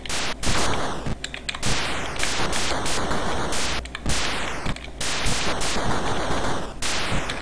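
Star Wars: The Empire Strikes Back on the Atari 2600, with rapid crackling bursts of blaster fire and noisy explosion blasts repeating continuously, loud and harsh static-like game sound.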